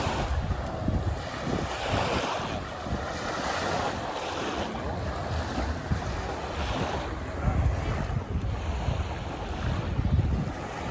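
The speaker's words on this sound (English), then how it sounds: "I love listening to the sound of the sea." Sea waves break and wash steadily on the shore at Palmanova, Mallorca, a continuous broadband surf roar that fills the whole stretch, with wind buffeting the microphone and no speech.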